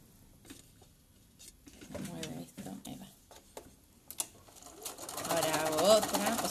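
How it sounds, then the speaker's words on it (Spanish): Sewing machine quilting fabric strips onto a quilt-as-you-go block, stitching along the strip edges; intermittent short runs of motor whir and clicks, building to a louder sustained run near the end. "Puedo coser por el borde de la tira de color o puedo coser también haciendo rayas aleatoriamente"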